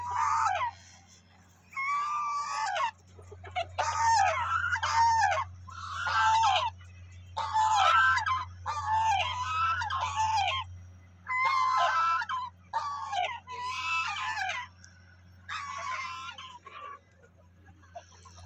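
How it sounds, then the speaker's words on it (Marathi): Chickens cluck and squawk in repeated bursts, fairly close, over a low steady hum. "कोंबड्या राहतात दुसऱ्या मजल्यावर, पिल्लं राहतात पहिल्या मजल्यावर"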